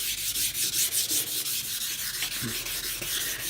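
Steady rhythmic wet-or-dry sanding of a stainless steel boat propeller with 600-grit paper, rapid back-and-forth abrasive strokes that sound close and fairly loud.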